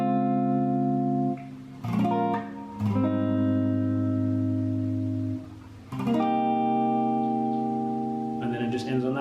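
A guitar plays the bridge chords of a song: sustained, ringing chords that change every couple of seconds, with a bright strum at each change and a touch of reverb, alone without talk.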